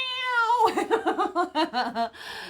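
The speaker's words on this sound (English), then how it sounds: "So poor old JJ's going, meow." A cat meows repeatedly, starting with one long drawn-out wail and then breaking into a rapid run of short, insistent meows, close and fairly loud.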